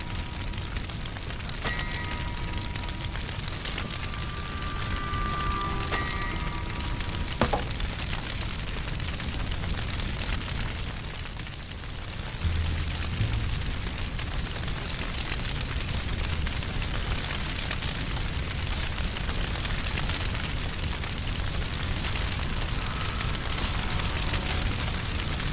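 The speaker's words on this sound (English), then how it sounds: "Good fire going here, Arthur." A campfire burns in a Red Dead Redemption 2 camp, a steady dense crackle and roar throughout, loud and close, with a brief dip midway and faint tonal background sounds, no speech.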